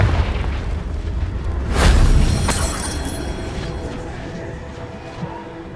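A fiery Confringo blast spell cast in Hogwarts Legacy, bursting as one loud booming explosion early on that decays into a long rumbling tail with scattered debris crackles, and no talking.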